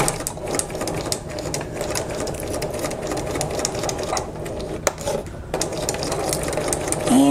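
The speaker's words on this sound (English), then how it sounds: "I am going to do a little back stitch there" A sewing machine runs steadily while back stitching the seam of a zipper pouch, a loud, close, continuous rapid mechanical whir with a brief click partway through and no voices.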